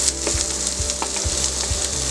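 Onion sautés in a spoonful of hot oil with mustard seeds for tomato chutney, a dense close sizzle broken by rhythmic spoon scrapes against the pan about twice a second, with no voices.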